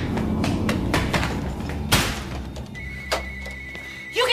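A back door bangs in a TV comedy scene, with a few sharp knocks and a louder thump among them, set against a steady background of indoor room tone.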